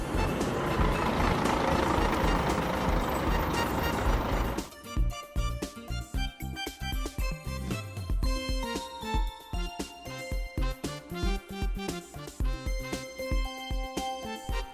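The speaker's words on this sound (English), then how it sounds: "Construction bus," A construction bus opens with a loud, rushing roar that cuts off abruptly, then gives way to a rumbling engine with repeated tonal reversing beeps layered on top.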